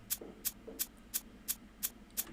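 Light, crisp shaker hits in a drum beat, seven evenly spaced sharp ticks in a steady rhythm over a faint low hum, played alone.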